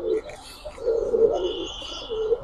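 Pigeons of an old local breed, kept among pricey fancy birds, coo in low throaty swells close by, with faint chirps and other bird noises in the background.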